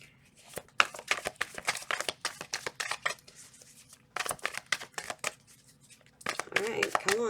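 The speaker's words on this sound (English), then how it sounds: "2 more shuffles" A deck of tarot cards being shuffled by hand in bursts of quick riffling snaps, with a few pauses between rounds, close and clear.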